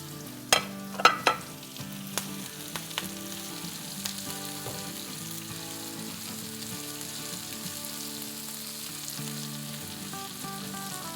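Finely chopped green chilies, curry leaves and whole green chilies frying in hot oil for a potato sabzi: a steady close sizzle, opened by a few sharp clatters and stirring knocks, with no talk.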